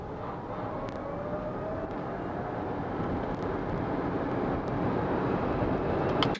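Torres EVX electric SUV accelerating hard from a standstill to 100 km/h, a steady rising whine over road and wind roar that grows gradually louder, heard from inside the cabin with no talking.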